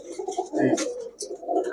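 Several high-flyer Giribaz pigeons coo in short, close, soft burbling phrases, with a brief bright flutter or rustle in the middle.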